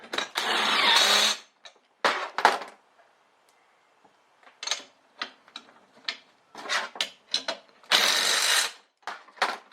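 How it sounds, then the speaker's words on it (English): An impact wrench drives a suspension spring nut on a Suzuki Sierra during a two-inch EFS lift install: two loud, sustained rattling bursts bracket a string of sharp metallic clicks and taps nearby. "impact that nut back on"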